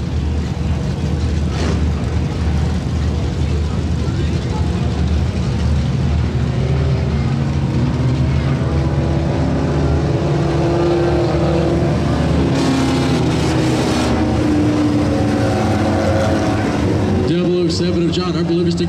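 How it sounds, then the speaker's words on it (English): Race cars roar around the track in an Extreme 4 heat race, a loud, continuous engine drone with rising and falling pitch as the cars pass, while an announcer talks over it. "Thomas Engel looking to batten down the hatches and win himself a heat race here tonight."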